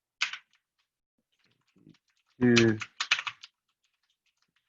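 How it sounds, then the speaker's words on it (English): A few quick bursts of computer-keyboard typing come in short clicky clusters, close and crisp, with a brief spoken word between them in an otherwise quiet room. "Well, I guess I can type"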